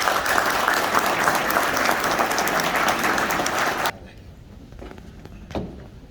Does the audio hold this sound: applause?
yes